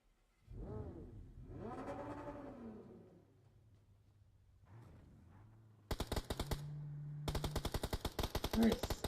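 Gunfire in a battle-royale esports match: after engine-like revving and whirring, rapid automatic bursts crackle in quick repeated volleys, fairly close and loud through the final seconds.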